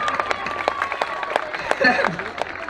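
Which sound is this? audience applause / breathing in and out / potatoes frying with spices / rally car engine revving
audience applause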